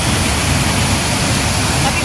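A curug waterfall in Banyumas, Indonesia, a loud, continuous broadband roar of falling water heard close up, steady throughout the moment.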